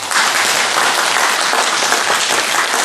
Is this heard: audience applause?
yes